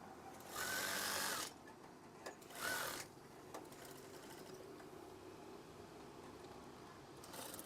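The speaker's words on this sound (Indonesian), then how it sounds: "Dan jahit lagi." A sewing machine stitches fabric for a curtain swag in short bursts: a loud, fast whirring run, a brief second run, then quiet handling noises and a faint final burst.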